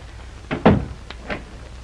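An old door creaks open and shuts with a couple of dull thunks and a faint latch click, close by and brief, in a quiet interior on a ship.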